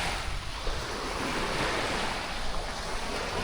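Sea waves wash onto a beach in Saudi Arabia, a continuous broad surf roar with wind buffeting the microphone.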